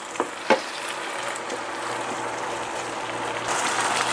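Tuna flakes sautéed with tomato sizzle steadily in a pan, with a couple of sharp utensil knocks near the start and a gentle stirring scrape, fairly close and without talk.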